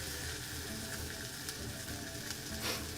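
Food sears in a hot pan with a constant, close sizzle and crackle that holds steady throughout, with a brief louder hiss near the end and no voices.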